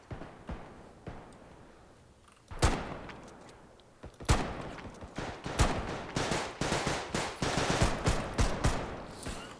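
Gunfire in the video game Bodycam: scattered single shots, then dense rapid bursts of automatic fire, sharp and loud, continuing in clusters.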